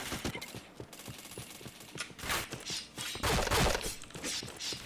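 Rapid automatic gunfire in a shooting video game, rhythmic repeated shots with mechanical clatter between them and a few louder bursts, sustained and close throughout.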